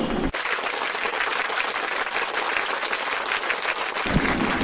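A crowd claps enthusiastically, a dense, sustained burst of applause that starts abruptly and continues without pause.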